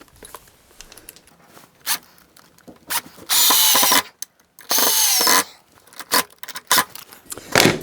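A power drill drives a couple of screws into the legs of a model railroad baseboard, with two long whirring bursts near and loud, plus a few shorter clicks and handling noises around them.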